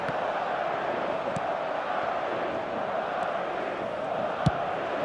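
Steady stadium crowd roar during a Madrid match in the video game eFootball 2026: a dense, constant wash of massed voices that holds level throughout, with a brief louder thump near the end.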